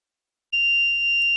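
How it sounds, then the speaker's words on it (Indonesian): Buzzer of a reed switch door security alarm sounds a steady, shrill electronic tone that starts abruptly partway through and holds continuously, loud and alone with a low background hum. "Nah, nilai sensornya 0, buzzer berbunyi."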